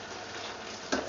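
Aubergine, okra and string beans are stirred in a pan for ginataang tahong, a faint, soft sizzle under a quiet stir, with a short scrape of a utensil near the end.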